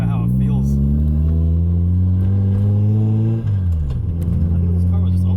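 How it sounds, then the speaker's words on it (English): Mazda FC RX-7 rotary engine droning steadily and loud inside the cabin while driving, with a pitch dip and recovery near a gear shift; no talk over it. "I think this car was just always this loud."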